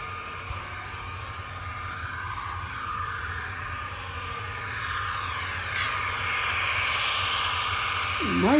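An HO scale EMD GP35 model locomotive, a Broadway Limited Wheeling & Lake Erie unit, runs at full speed with a steady motor whine and hum that swells slightly as it nears, alone without talk.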